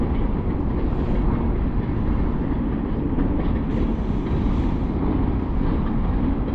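A train rumbles past close by, a loud continuous roar with steady rolling rail noise and no voices.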